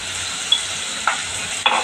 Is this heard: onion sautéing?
yes